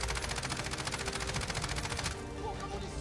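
Rapid automatic fire from a Ram 7 rifle in Call of Duty Warzone, a loud, steady stream of closely spaced shots running for about two seconds before cutting off into a softer lingering tail.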